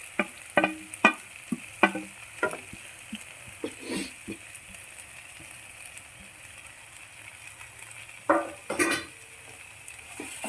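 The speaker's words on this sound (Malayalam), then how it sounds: "ഇനി നമുക്ക് പാലക്ക് ചേർക്കാം. അരിഞ്ഞു വെച്ചിരിക്കുന്ന പാലക്ക്." Chopped spinach stirred into dal and tomato in a pan, with a scatter of scraping and clinking stirring strokes over a faint, low sizzle, busier at the start and again near the end.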